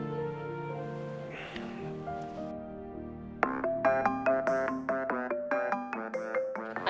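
A mobile phone rings with an incoming call, its melodic electronic ringtone repeating in short, even pulses that grow sharper partway through, loud and close over a faint held background tone, with no talking.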